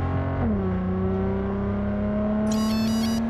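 A car engine in the video game Cyberpunk 2077 hums steadily, its tone sliding up early on and then holding as the car cruises, with a faint electronic chirping near the end; the engine is loud and close, with no talking.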